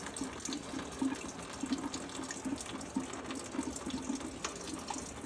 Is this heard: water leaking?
yes